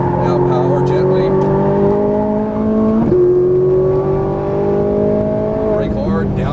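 A Ferrari 458 Italia's engine revs under acceleration on a racing circuit, its loud rising whine climbing through gear changes with a brief dip mid-clip, heard from inside the car while an instructor talks over it.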